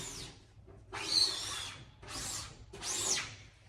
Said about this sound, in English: scrape off that ink on the screen